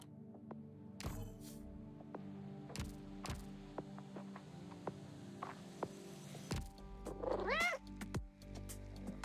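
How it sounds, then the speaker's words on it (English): A cat close by gives a rising, wavering meow near the end, after scattered clicks and taps over a low electrical hum. "You lovely cat, you."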